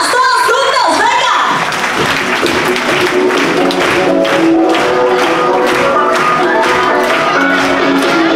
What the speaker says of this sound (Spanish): ¡Las palmas! ¡Todos juntos! ¡Venga!